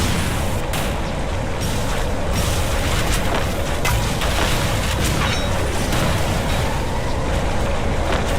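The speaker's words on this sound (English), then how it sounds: "Sandra going in with some grenades" Grenade explosions in a competitive Aztec league final video game match, heard as a dense, continuous roar of booming blasts and rumbling gunfire with no clear gaps.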